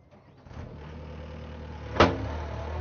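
A Kubota SVL track loader engine runs at full RPM, a steady, droning mechanical hum that builds in the first half-second and holds level, with one brief clunk partway through.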